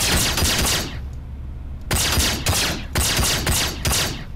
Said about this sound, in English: Just run up to him and shoot him with the pistol in space.